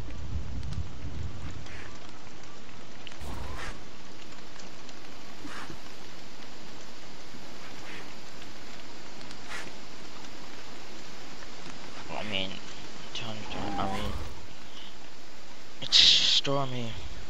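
Steady rain patters through a storm in the video game Don't Starve, a dense continuous hiss with occasional sharper ticks and a louder burst near the end, mostly without voices.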